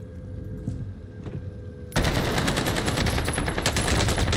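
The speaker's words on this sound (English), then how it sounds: "we're getting shot from up top" Sustained automatic gunfire from a Call of Duty Warzone match fills the clip. It is near and loud and starts abruptly after a quieter opening with a few scattered shots.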